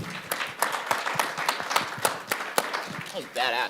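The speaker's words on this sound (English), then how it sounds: "let's give them one more round of applause" An audience at a conference stage event at ETHDenver gives a round of applause: scattered, sharp claps rising and falling while people talk and call out over them.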